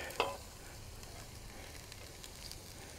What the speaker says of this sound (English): we're going to start to add our vegetables here. Should be nice and hot in here.